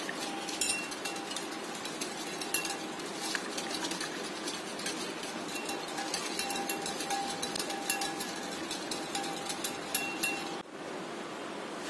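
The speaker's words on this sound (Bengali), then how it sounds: "এখন একটা হুইস্কি দিয়ে এই ক্রিমটাকে ফোমি ভাব আসা পর্যন্ত আমি হুইস্কি দিয়ে ভালো করে নাড়তে থাকবো।" Whisking cream with icing sugar until foamy, a quiet steady scraping and ticking of the whisk against the bowl, faint and continuous, stopping just before the end.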